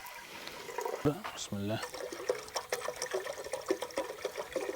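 Water pours into a cooking pot, about three litres measured for boiling mushrooms, in a brief splashing run with a short rising fill, while someone speaks Tunisian Arabic over it.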